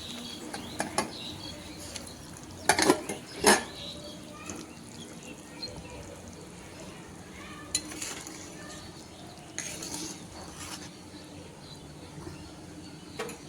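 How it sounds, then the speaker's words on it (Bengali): Egg curry gravy simmers at a low, steady bubble while eggs are added, with a few sharp clinks and scrapes of a utensil against the pot early on and faint movement noises later. "ঝোল ফুটে গেছে, এবার ডিমগুলো ছেড়ে দিচ্ছি।"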